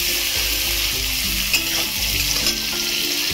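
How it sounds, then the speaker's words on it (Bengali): Raisins frying in hot oil left from earlier frying, a continuous close sizzle with brief stirring scrapes, no voices. "এই ভাজার তেলের মধ্যেই আমি একবারে কিশমিশগুলো দিয়ে ভেজে নিচ্ছি"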